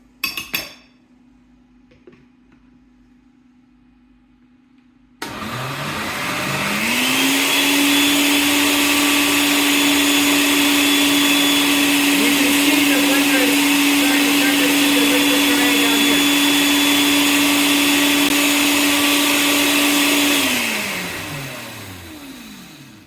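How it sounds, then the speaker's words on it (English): A blender pureeing pumpkin whirs up loudly after a brief quiet moment, running at a steady high whine for about fifteen seconds before winding down. "run the blender again"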